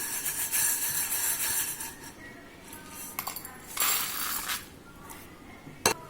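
Roasted dried red chillies being moved from a kadai into a vessel while making rasam powder, giving scattered metallic clinks and scraping clatters, with a few louder knocks and a sharp clink near the end.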